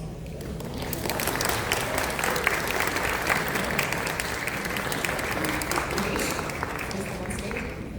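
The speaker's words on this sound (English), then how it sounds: "Applause." Audience applause at a healthcare AI panel at TieCon, a steady wash of many hands clapping that swells quickly and holds evenly for several seconds, moderately close.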